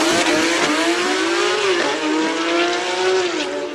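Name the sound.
race car accelerating hard at hill climb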